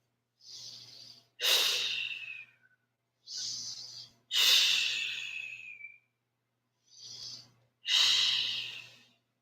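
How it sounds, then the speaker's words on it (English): Deep breathing in a vinyasa yoga pose: three paired cycles, each a softer inhale followed by a longer, louder rushing exhale, close to the microphone with silent gaps between, and no talking. "Breathe."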